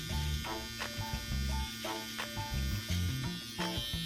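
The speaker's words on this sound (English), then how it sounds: "I can just put a straight line in using my trimmer" Steady close buzz of an electric beard trimmer edging a beard line and mustache, its tone wavering as the blades press and lift against the hair.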